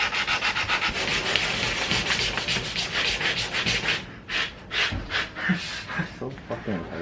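Sanding on the body panel of an Acura RSX with a rusty, collision-bent hood: steady rhythmic rubbing strokes, loud and close, that break into shorter scrubbing passes, with people talking and breathing over it.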